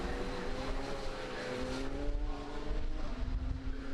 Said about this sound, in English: Great scrum of cars here pouring into the chicane